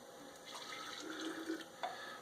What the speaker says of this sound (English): So you should just take a little bit of your hot water